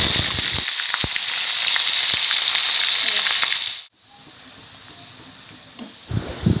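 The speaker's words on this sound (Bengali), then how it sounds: "পেঁয়াজগুলো তেলে দিয়ে দেব।" Sliced onions sizzle loudly in hot oil for biryani, a dense crackling hiss that cuts off abruptly partway, leaving quieter bubbling and a few clatters.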